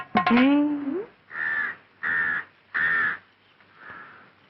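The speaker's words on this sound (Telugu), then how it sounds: "కాకి" A crow caws several times in a row, loud and close, each harsh call evenly spaced, the last one fainter.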